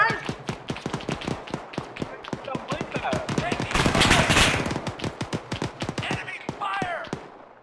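Rapid bursts of rifle and machine-gun fire crack through a firefight on the Takistan map in ArmA 3, shots coming in tight irregular volleys, with a player talking throughout.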